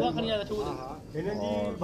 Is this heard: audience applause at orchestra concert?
no